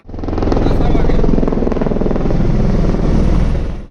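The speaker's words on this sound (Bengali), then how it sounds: "এই যে এখান থেকে দেখো হেলিকপ্টার এক্ষুনি চলে গেল" A loud helicopter thumps and roars close by at a helipad on the Mata Vaishno Devi route, holding steady for a few seconds before cutting off abruptly.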